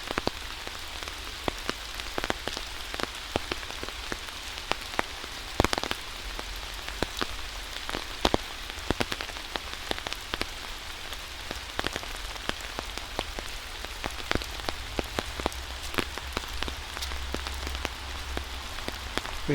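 Steady rain falls through the trees of Wissahickon Valley Park in Philadelphia, a dense continuous patter with frequent sharper drops striking close by, and no voices.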